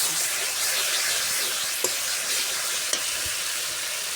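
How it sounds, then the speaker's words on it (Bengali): Spice paste with salt and chili powder frying in oil for a Bangladeshi winter-vegetable pangas fish curry, a steady close sizzle throughout with two sharp scraping stirs of the spoon against the pan. "মরিচের গুঁড়া দিয়ে সুন্দর করে মশলাটা আমি কষাই নিব"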